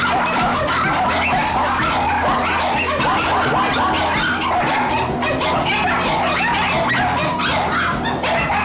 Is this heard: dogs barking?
yes